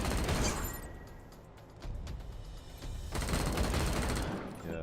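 Video game Wasteland 3 gunfire rattles in dense overlapping bursts over a constant loud rumbling backdrop, with a brief lull before the shooting picks up again.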